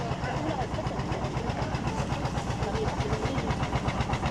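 The engine of the Mahakam river boat KM Cahaya Dinah drones from below deck with a steady, rhythmic low chugging throb that runs evenly throughout at moderate loudness.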